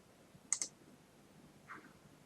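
Two quick, sharp computer mouse clicks close together, pressing the Start button during an Arduino setup, followed by a faint softer click in a quiet room.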